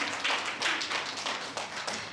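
A small audience at a dementia-care training lecture gives a short, moderately faint round of clapping with no talk over it.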